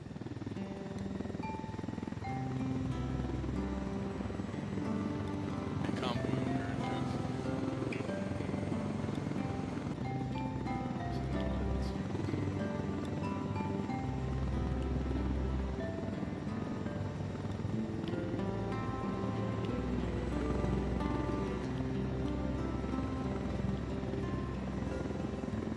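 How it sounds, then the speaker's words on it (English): A helicopter in a video game flies with a constant, heavy rotor thrum and engine drone that stays loud and close throughout, with no clear breaks. "we gotta take this helo"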